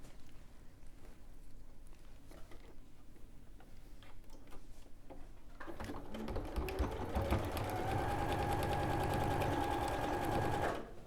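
Quiet rustling and handling give way to a sewing machine stitching a dart, its steady rapid ticking motor close and continuous for the last several seconds.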